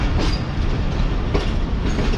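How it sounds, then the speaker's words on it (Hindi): Karakoram Express train rolling slowly along the tracks near bridge construction, a loud, steady rumble heard from inside the carriage with faint rhythmic wheel clatter. "शायद इसी वजह से ट्रेन हमारी काफ़ी स्लो जा रही है"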